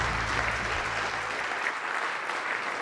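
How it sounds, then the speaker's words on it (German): Sustained audience applause at a lecture welcoming a speaker, steady and dense throughout with a low rumble in the opening second, no voices over it. "großen Applaus"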